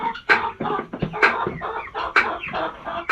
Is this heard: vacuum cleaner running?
no